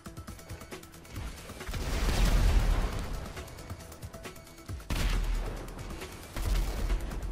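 Dense bursts of gunfire and rumbling explosions in GTA 5 Online on the Nuketown map, rapid popping shots layered over swelling booms in several waves.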